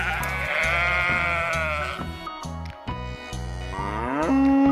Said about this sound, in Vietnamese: Con bò sữa.